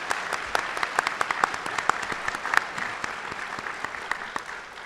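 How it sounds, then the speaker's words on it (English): Crowd applause at an environmental awards celebration, dense clapping with a few sharper claps standing out, steady and fairly loud throughout. "round of applause"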